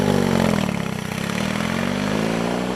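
A BMW 1,802cc Boxer twin motorcycle engine rumbles in a deep, steady pulsing throb, loud and close, dipping slightly in pitch midway before settling back, with no voices over it.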